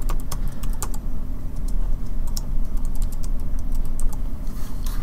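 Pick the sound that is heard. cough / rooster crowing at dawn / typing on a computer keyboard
typing on a computer keyboard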